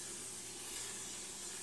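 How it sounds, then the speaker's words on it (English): Cooking spray hisses onto a cooking pan in a steady, even, fairly faint spray that lasts the whole moment without a break or any speech. "the first thing we need to do is spray this cooking pan"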